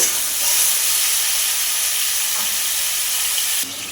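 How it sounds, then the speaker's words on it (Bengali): Ridge gourd frying lightly with salt in mustard oil in a wok, a loud, steady hiss of sizzling close by that drops off sharply near the end, no talk. "নুন দিয়ে নাড়াচাড়া করে এটাকে হালকা করে ভেজে নেব"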